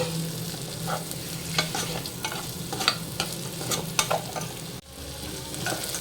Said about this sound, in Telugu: ఈ ఆయిల్లో ఆనియన్స్, చిల్లీ ముక్కలు వేసుకోవాలి. వేసుకుని ఇది కూడా ఎర్రగా వేగే వరకు ఉంచుకోవాలి.